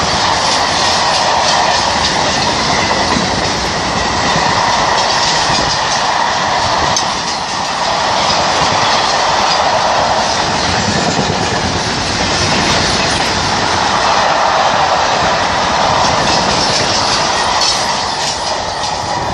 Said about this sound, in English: Passing through another freight from the Crewe Bashford Hall to Coatbridge, car train.